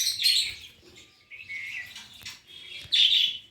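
Pet lovebirds give a few sharp, high chirps and tweets in quick bursts, close and clear with short pauses between calls.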